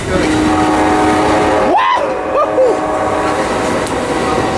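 Union Pacific freight locomotive rumbling loudly past up close, its horn sounding in short blasts midway, with excited voices heard over the steady roar.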